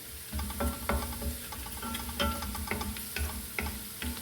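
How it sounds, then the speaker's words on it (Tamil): Curry leaves and pirandai frying in sesame oil for a thokku, with a steady sizzle and repeated close ladle scrapes and taps against the pan, no voices. "நல்லா கிறிஸ்பியாக வதக்கிடணும்."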